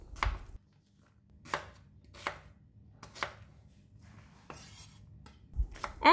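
Red onions and large shallots are chopped with a knife on a board for sambal. The knife strikes land in a slow, irregular series, each one close and crisp, with quiet gaps between them and no one speaking.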